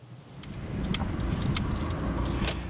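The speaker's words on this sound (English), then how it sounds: "first time driving the Nissan NX" Steady low rumble of a 1994 Nissan 100NX driving along the road, with occasional light rattles and ticks inside the cabin.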